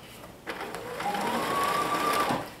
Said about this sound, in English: so I just sewed that side on